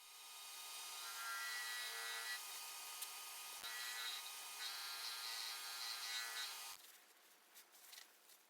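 A cloth applies abrasive paste to a curly maple cake stand, probably spinning on a lathe, making a steady, faint, hissing rub that lasts several seconds and then eases off. No one speaks.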